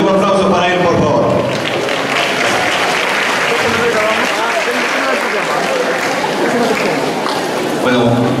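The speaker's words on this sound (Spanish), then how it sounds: "un nuevo aplauso para él, por favor" Applause from an audience at an international logistics talk greeting the speaker, fairly loud and continuous, with voices and tonal sound mixed in over the clapping.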